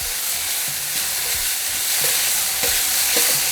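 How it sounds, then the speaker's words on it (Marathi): Capsicum (shimla mirch) stir-fried in a pan for paneer bhurji, giving a steady close sizzle with a few soft scraping stirs, and no voices. "आता इथे आपल्याला सिमला मिरची घालायची."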